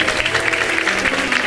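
A church congregation applauding during a worship service, dense continuous clapping from many hands filling the room, loud and close.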